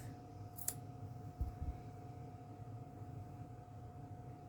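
Scissors snip yarn for a friendship bracelet in one sharp close click, followed by faint handling thumps over a low steady hum.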